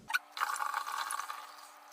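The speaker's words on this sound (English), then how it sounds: "I'm going to strain out the raisins and the little bits of orange peel." Nutrient tea with raisins and orange peel being poured through a strainer for mead, a brief close trickle and splash of liquid lasting about a second after a small clink.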